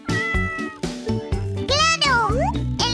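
A cat gives several loud, close meows with rising and falling pitch, mixed in with lively speech and short musical sounds.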